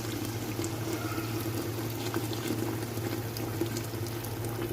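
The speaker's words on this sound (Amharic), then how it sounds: "እዚህ ጋር ውሃችን ይፈላል።" A pot of water comes to a rolling boil while cooking chicken kabsa, giving a steady, even bubbling hiss and rumble that carries on throughout, with no voices.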